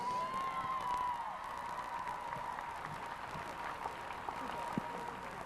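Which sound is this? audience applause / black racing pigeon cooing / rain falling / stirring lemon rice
audience applause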